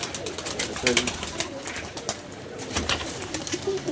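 Pigeons at a loft coo in low, throaty phrases, a few rising clearly above a steady outdoor hiss with faint voices in the background.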